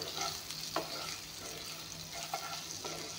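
Spices and egg frying in a pan for ghugni with added chilli powder: a soft, continuous sizzle with a couple of spatula scrapes and clinks, fairly faint and close.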